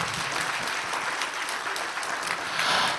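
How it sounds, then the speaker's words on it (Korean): Church congregation at a Christmas service clapping together in praise, a full, sustained burst of applause filling the room from start to end. "영광의 박수를 하나님께 올립니다."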